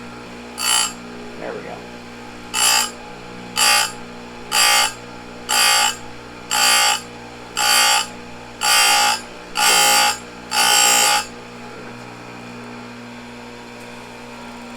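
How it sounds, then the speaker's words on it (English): An Oregon 620-120 grinder wheel sharpening chainsaw chain cutters gives about ten short, loud grinding bursts at a steady pace, one per tooth, over a constant mains hum, with a brief remark spoken partway through. "Now this time, the grinding wheel is going into the cutter."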